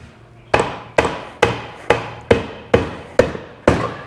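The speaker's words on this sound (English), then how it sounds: "Let's grab a dead blow and see if we can't get this crankcase to start coming apart" A dead blow hammer strikes the crankcase of a Bennche Spire 800 UTV engine during a teardown, eight loud, evenly spaced thuds in a steady rhythm with no talk.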